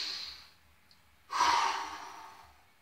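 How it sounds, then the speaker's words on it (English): A deep breath drawn in and then blown out hard through pursed lips, as if blowing out a candle: a soft inhale followed by one strong, close exhale that fades out, with no talk. "And blowing it out hard like you're blowing a candle out."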